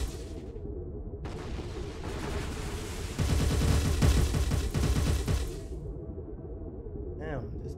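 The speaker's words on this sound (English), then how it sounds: "He just took like a bunch of missiles and shots from that thing." Missiles and rapid gunfire pound a ship in Sins of a Solar Empire 2, a space strategy game. Steady hum builds into a loud, dense stretch of rhythmic shots and impacts, then eases back.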